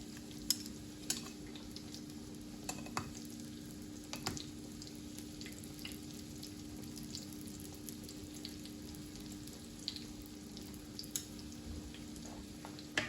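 Chicken breast pieces sizzling in a pan, a quiet, steady fry with scattered pops and a few soft clicks of stirring, faint and fairly distant with no voices.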